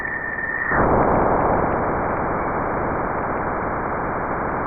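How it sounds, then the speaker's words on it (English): Spacecraft plasma-wave recording of Jupiter's bow shock, where the solar wind meets the planet's magnetosphere: a faint high tone gives way after a moment to a loud, steady broadband roar like rushing static that holds to the end, with no voices. "They named that the roar of Jupiter."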